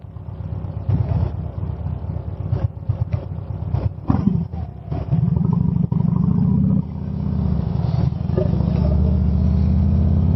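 A Harley-Davidson motorcycle engine is cranked and revved up close, with loud, rough, throbbing exhaust that rises in bursts and then holds a steady deep roar.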